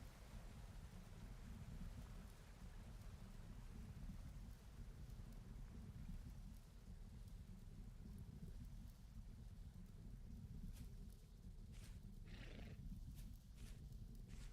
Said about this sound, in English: Oh, bighorn sheep.